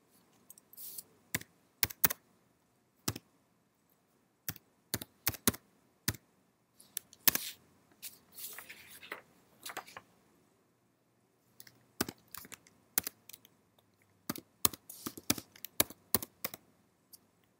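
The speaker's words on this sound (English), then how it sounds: "Type in your ID and temporary password." Someone types an ID and password on a computer keyboard, sharp key clicks coming in scattered bursts with pauses between, close and clear against near silence.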